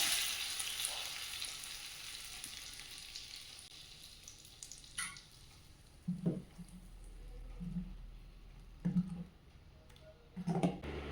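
Soft sizzling of hot oil tempering stirred into peanut chutney, with intermittent wet stirring and squishing sounds, a few louder bursts near the end.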